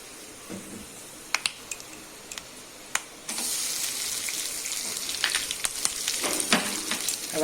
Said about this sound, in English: I've added the garlic. Just roast everything a little.